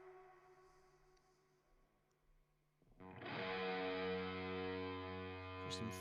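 Thick, fuzzy distorted guitar crashes in after a quieter sustained passage, drenched in heavy reverb and filling the sound loudly to the end.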